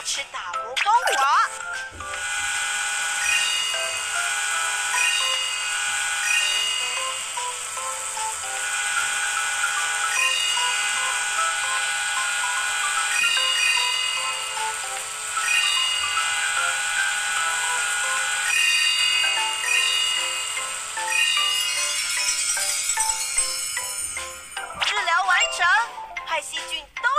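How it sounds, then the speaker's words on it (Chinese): Cartoon dental drill polishing teeth smooth in a Baby Bus children's tooth-care game, a steady high electronic whir with tinkly musical game tones running continuously, ending in brief chimes. "现在将牙齿打磨光滑。"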